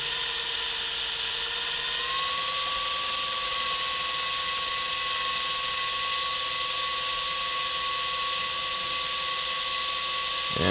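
A cobalt drill bit grinds continuously into a Yamaha YZF-R3 motorcycle part, the drill holding a steady high whine that shifts pitch slightly partway through, close and sustained with no voices.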